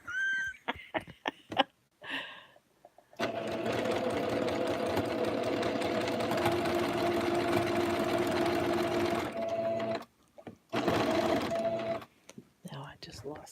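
Sewing machine stitching a wool blanket into a dog bed, running steadily for several seconds, pausing, then starting again in a shorter burst, with a few soft handling sounds and brief quiet talk before it begins.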